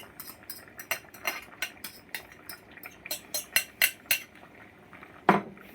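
A spoon stirring through butternut squash soup with scallion leaves and cilantro added, quick metallic clinks and scrapes against the pot that come in a burst and get louder toward the end.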